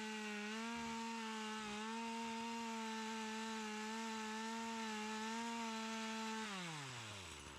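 A steady, loud 14-inch chainsaw engine drone holds a constant pitch while cutting a Bradford pear tree trunk, then winds down near the end as the saw slows.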